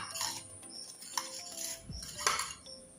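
Laopala glass quarter plates clinking and knocking together as they are handled, light scattered chinks and taps at close range amid quiet rustling.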